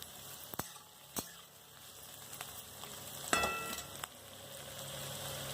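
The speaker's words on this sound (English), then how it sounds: "our onion, potato is all frying so well" Steady low sizzling of onions and potatoes frying in a pan, with a few sharp clicks and a brief scrape partway through.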